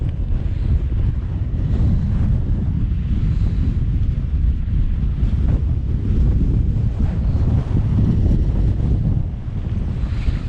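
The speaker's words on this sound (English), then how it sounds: "as you can see the wind's picked up again" Strong, steady wind gusting across a mountain wild campsite above Loch Lomond on a cold morning, buffeting the microphone as a continuous loud roar for the whole stretch, easing only slightly near the end, with no one talking.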